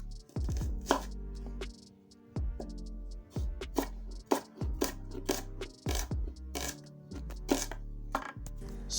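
A knife roughly chopping onion on a cutting board, a run of loud, close, sharp thuds in uneven bursts with short pauses between groups of strokes.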